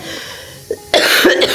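A single sharp cough breaks out midway through, followed by a burst of loud, broadband household noise and a few short vocal sounds close to the mic.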